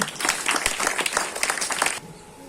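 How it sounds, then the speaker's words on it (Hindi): Brisk audience applause at an outdoor political cadre gathering in Delhi, many hands clapping loudly for about two seconds before cutting off abruptly into a quiet background. "जोरदार तालियों के साथ स्वागत करें"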